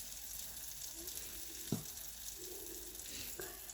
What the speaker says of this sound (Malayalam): അപ്പോൾ അടുത്ത ബാച്ച് ബോണ്ട ഞാൻ ഇട്ട് കൊടുക്കുന്നുണ്ട് എണ്ണയിലേക്ക്.